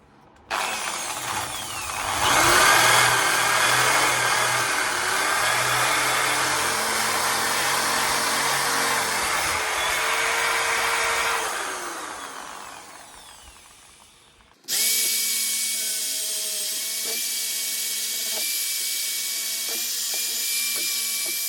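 A power tool strips paint from parts of an early-1960s Raleigh RM4 moped, giving a loud, steady whirring roar for about fourteen seconds that winds down, then a different, steadier motor hum with no talking.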